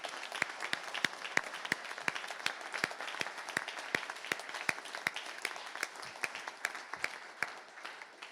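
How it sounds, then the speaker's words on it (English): A round of applause at a Senate campaign launch, steady crowd clapping with distinct sharp claps standing out throughout. "Let's give them a round of applause."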